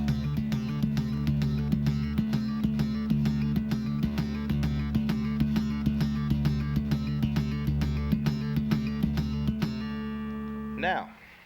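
Bass guitar playing a fast triplet pattern of thumb slap, pluck and hammer-on, producing steady rapid repeated percussive notes with a sustained low tone, up close and alone, ending in a brief squeak.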